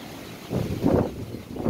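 Strong typhoon wind gusts buffet a microphone outdoors at a farm in a low, rushing roar that swells twice over a steady background of blowing air.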